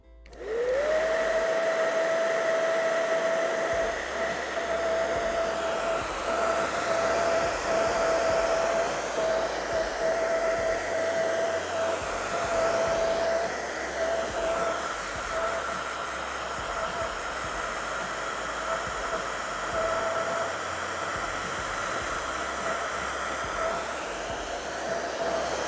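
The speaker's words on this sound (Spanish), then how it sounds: "Y vamos a ayudarnos con nuestro secador." A hair dryer blows steadily over a freshly applied base coat on an art painting surface, a loud, continuous whooshing whine with a steady tone that runs unbroken for the whole stretch, with no voices.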